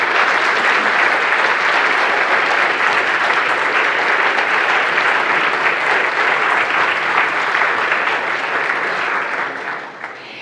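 A conference audience applauds with a dense, sustained round of clapping, loud and even throughout before tapering slightly at the very end.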